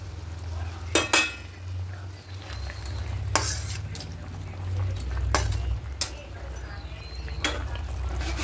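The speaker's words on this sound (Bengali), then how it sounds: "জলটা শুরু করেছে, এখানে ভেজে রাখা মাছগুলো সব দিয়ে দেবো" Fried rohu fish pieces go into boiling mustard gravy in a pan for a Bengali recipe: a few sharp clinks and splashy clatters over a steady bubbling sizzle, close and fairly loud.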